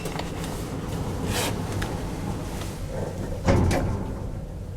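Schindler 3300 lift doors in a car park, a soft sliding rumble followed by a firmer thud as the doors close, fairly near against a steady hum of background noise.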